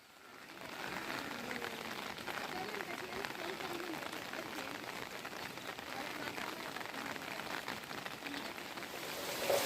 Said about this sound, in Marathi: पाऊस बघा किती पडता तो हो